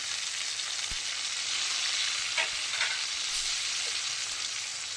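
Tomatoes fry in a hot pan with a strong, steady sizzle, interrupted by a few soft stirring scrapes and clicks close by.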